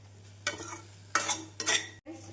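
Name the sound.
potatoes sautéing with onions and spices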